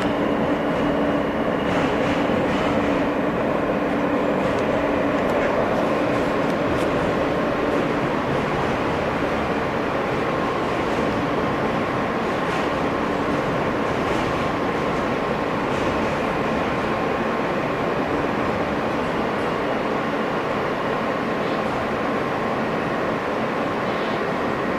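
Onboard ride in an R160 F subway train running along the West End and 4th Avenue lines, with a steady loud rumble of wheels and motors throughout and faint clicks of rail joints.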